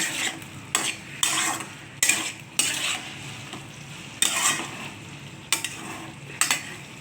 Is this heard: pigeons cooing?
no